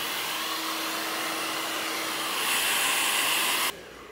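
A hair dryer blows on wavy hair in a steady, close, loud hiss that swells slightly louder, then cuts off abruptly near the end, leaving quieter room tone.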